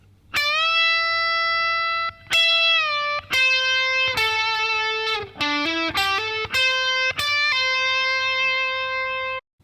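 Electric guitar with distortion and effects plays a segment of a guitar solo at a slightly slower pace: sustained, bent single notes, then a quicker run of short notes, loud and close with no talking.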